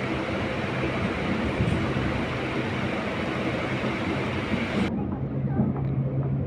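A MEMU passenger train runs between Vijayawada and Machilipatnam, heard from inside a near-empty coach as a loud, continuous rumble and rattle with wind noise, the high hiss dropping away abruptly near the end.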